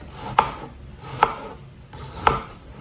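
An onion being chopped into medium chunks on a board: three sharp, evenly spaced knife strikes, close and clear with nothing else.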